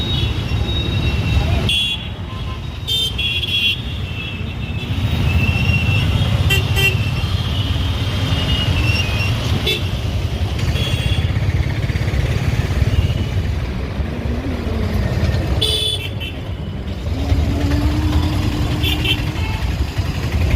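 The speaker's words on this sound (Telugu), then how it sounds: "ఈ టైం అయ్యే టయానికైతే ట్రాఫిక్ జామ్ ఫుల్గా ఉంటుంది." City traffic jam near the Tower Clock in drizzling rain: a continuous rumble of cars and motorbikes, broken by several nearby horn toots early on and again toward the end.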